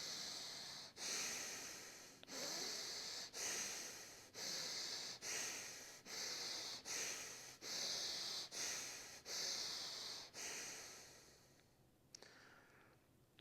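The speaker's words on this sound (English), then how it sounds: "going to be doing 4 rounds of 6 breath cycles of Ujjayi breath" Ujjayi yoga breathing, heard as about a dozen steady, rhythmic cycles of throaty, hissing inhales and exhales, close and loud, with no pauses between breaths and no talking.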